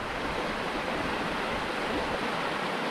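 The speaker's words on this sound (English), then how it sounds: "Nice whitewater rapids, if you will, on that stream right now." Whitewater rapids rushing along a small stream in the Pretty River Valley, a steady, loud broadband roar of churning water filling the whole stretch without a break.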